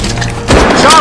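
A loud, close explosion in a World War II shooter game: a sudden heavy boom halfway through, with a rumbling, crackling tail and debris, following quieter game ambience and distant voices.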